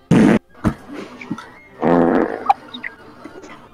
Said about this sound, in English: She died of fart.